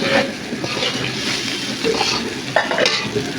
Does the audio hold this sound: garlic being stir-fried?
yes